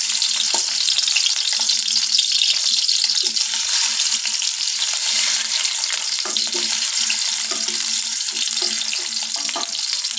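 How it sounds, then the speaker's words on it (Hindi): Eggs frying lightly in a pan for biryani produce a strong, unbroken oily sizzle, close and constant throughout, with scattered soft scrapes and clinks of stirring. "अंडे हल्के से हम फ्राई करेंगे।"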